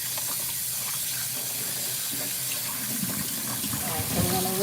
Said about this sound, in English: All right, so we're gonna rinse those again.